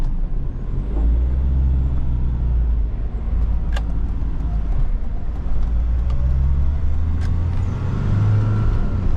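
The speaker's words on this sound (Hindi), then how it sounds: "अब जरा खींचते हैं गाड़ी को खुल के भाई" A converted Mahindra Scorpio Classic SUV cruises along an Indian highway, its engine and road noise forming a steady, loud low rumble from inside the cabin with a few faint clicks and no speech.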